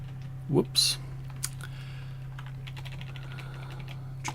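Quick bursts of keystrokes on a computer keyboard tap close by in an irregular rhythm, with a brief louder clack early on and a steady low electrical hum running underneath.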